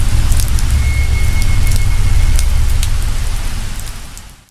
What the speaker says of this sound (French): Sous la pluie torrentielle